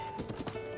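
Horse hooves clip-clop in Zelda: Breath of the Wild, a brief run of four or five quick, moderately quiet hoofbeats in an even rhythm over a faint game backdrop.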